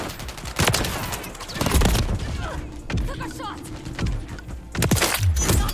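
Rapid, loud bursts of gunfire in Call of Duty MW3 crack out in several volleys with short gaps between them, and voices talk between and over the shots.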